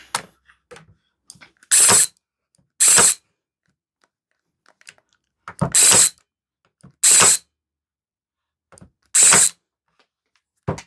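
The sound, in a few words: Parkside PAT 20-Li A1 cordless tacker stapling into plywood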